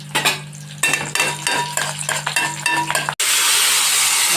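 Onion dropped into a hot tempering with a single dried red chilli in a pan, clattering utensil scrapes and stirring over sizzling oil, then a sudden loud, even hiss near the end.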